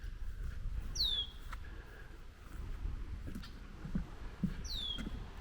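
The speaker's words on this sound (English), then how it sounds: "that's the red-winged blackbird making lots of noise" A red-winged blackbird calls twice, a bright descending whistled trill about four seconds apart, heard at moderate distance over a faint outdoor hush with soft scattered taps.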